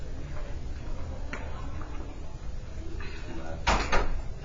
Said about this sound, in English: Oh, you want me to shut the door?